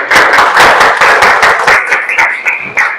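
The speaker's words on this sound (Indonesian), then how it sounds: "Tepuk tangan untuk dia." Classroom applause for a student, a crowd of hands clapping loudly and steadily for about three seconds, thinning toward the end with no talking over it.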